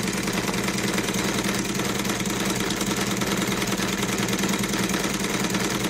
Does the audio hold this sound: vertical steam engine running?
yes